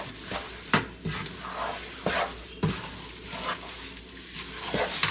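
A spoon stirs a thick pecan candy mixture in a pot on a stove whose flame has just been turned off, scraping repeatedly in an uneven rhythm with a few sharper knocks against the pot, close and fairly loud.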